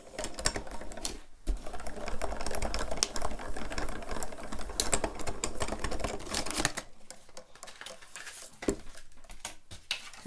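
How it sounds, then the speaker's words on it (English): A Marquee die cutting machine cuts paper hearts with fitted heart dies, giving a dense clattering, rattling mechanical run for several seconds before it quiets into softer handling sounds. "I can go ahead and get the smaller pieces cut out in my marquee machine"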